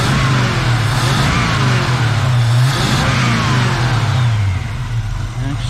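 A 1964 Chevy Nova engine runs steadily up close with a low, loud drone that never lets up, and the revs rise and fall a few times.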